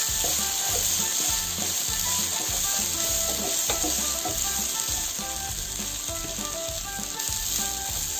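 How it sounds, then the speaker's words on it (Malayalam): Coriander powder and garam masala sizzle loudly in a pan for tuna thoran while being stirred steadily, a continuous close frying hiss with rhythmic scraping of the spoon. "ഈ പച്ചക്കുത്ത് മാറുന്നിടം വരെ നമുക്കൊന്ന് ഇളക്കിക്കൊടുത്താൽ മതി."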